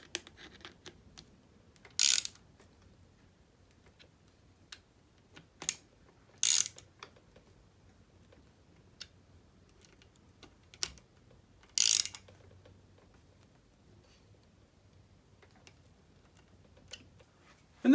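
Clutch cover bolts on a Honda ATC 200x engine are snugged down with a ratchet, giving several short bursts of clicking separated by quiet gaps and faint small handling noises.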